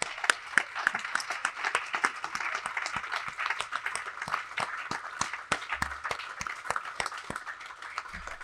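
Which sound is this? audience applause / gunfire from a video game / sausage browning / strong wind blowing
audience applause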